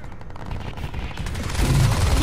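Crysis 2 online match gunfire: a loud, continuous rattle of automatic weapons that swells heavier toward the end, with no voices over it.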